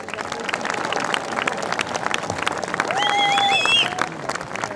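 An event audience at the Half Marathon des Sables in Fuerteventura applauds itself after the race stages. A loud, sustained burst of clapping swells toward the end, with a few whistles and cheers rising above it.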